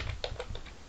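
Keys clacking on a computer keyboard while typing into a browser search bar, a short burst of distinct taps close by with no talking.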